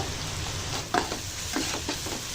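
Onions frying over high flame for chicken curry, a dense close sizzle with a few scraping stirs of a utensil against the pan, short and without talking.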